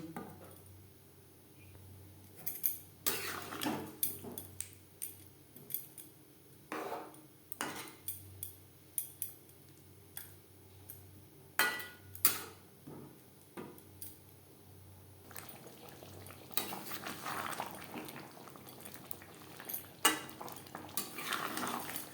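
Boiled, fried potatoes are stirred with spices in a pot for Kashmiri aloo dum, the spoon scraping and clanking against the metal in repeated irregular knocks, fairly quiet with no talk.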